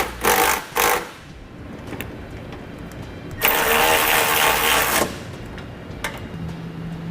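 3/4 inch socket driving trailer hitch bolts on a 2012 Cadillac SRX with a Curt receiver, two short bursts of a powered driver followed by a longer sustained whirring run, close up with quiet gaps between.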